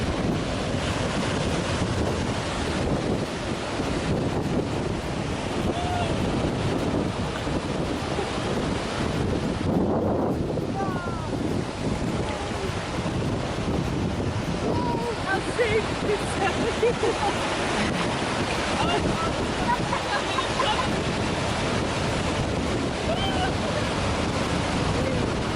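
Strong wind buffets the microphone at a beach, a constant low roar with surf and waves washing underneath for the whole stretch, and faint voices in the background now and then.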